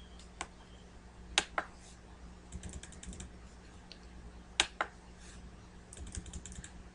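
A computer keyboard's arrow keys are pressed in quiet, scattered clicks. A few sharp single taps are mixed with short quick bursts of keystrokes, close by and otherwise in silence.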